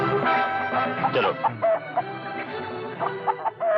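A rooster clucks repeatedly in short, choppy bursts, fairly close and loud, with busy background noise throughout.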